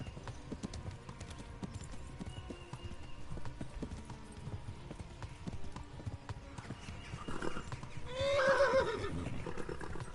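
A tired horse in the medieval video game Kingdom Come: Deliverance, hooves clopping in a steady rhythm before a loud whinny near the end, over a soft game background.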